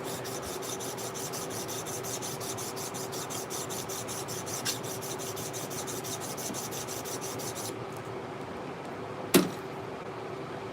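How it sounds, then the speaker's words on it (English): Steady, continuous rubbing and rasping of hand sanding on wood, with a faint click near the end. "We are just hand sanding some thorns today."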